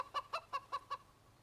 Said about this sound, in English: That was the loudest chicken I've ever heard in my life.